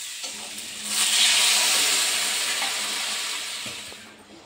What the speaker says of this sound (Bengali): বন্ধুরা দেখো মশলা দিয়ে আলুগুলো কষিয়ে নিচ্ছি